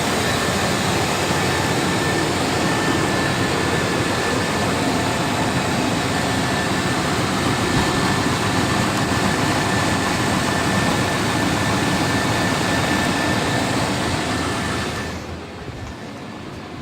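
A truck engine idles steadily up close, a loud, even drone that holds for about fifteen seconds before cutting off abruptly near the end.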